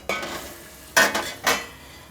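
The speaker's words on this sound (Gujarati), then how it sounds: "ખાલી બટરમાં મસાલો મિક્સ થાય એટલા માટે આપણે હલાવવાના છે" A spoon scrapes and stirs capsicum and other vegetables with masala in butter in a pan: three short, close scraping strokes over a soft sizzle, with no voices.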